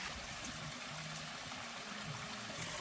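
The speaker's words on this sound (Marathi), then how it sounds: "हे डोंगरातून वाहणारा हा झरा आहे आणि स्वच्छ पाणी आहे." A clear mountain spring stream flows steadily in the countryside, a soft, even trickling and rushing of water with no voices.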